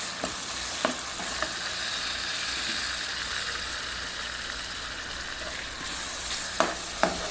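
Onions fry and are stirred in hot oil in a pan, a steady close sizzle with a few sharp scraping clicks from the spoon near the end.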